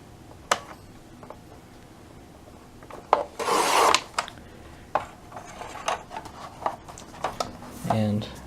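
A Fiskars paper cutter's small razor blade trims the bottom strip off a sheet of paper, giving a short scraping rasp amid quieter rubs and taps, with talking around it.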